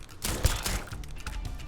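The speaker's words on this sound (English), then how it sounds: "An explosion should happen." A blast from an explosion triggered in the space game Starfield booms out at once, with a low thump and a crackling rumble that keeps going through the rest of the moment.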